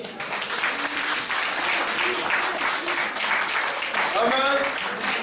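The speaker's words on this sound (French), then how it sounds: "Acclamez Jésus." A church congregation applauds Jesus, steady broad clapping filling the room with voices mixed in under it.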